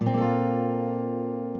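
A single guitar chord strummed in open G tuning rings out steadily and sustains, slowly decaying, with no talking.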